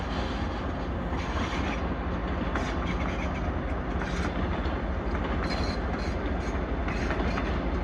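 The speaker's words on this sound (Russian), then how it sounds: "Маленькие вагончики." Small train wagons roll past close by in Ukhta, Komi Republic, a loud continuous rumble with rhythmic clickety-clack of the wheels and faint squeals, no talking.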